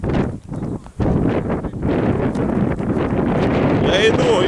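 Strong wind gusts outdoors around a Soviet-era KhTZ T-150K tractor, buffeting the microphone in loud, continuous roaring bursts while someone talks.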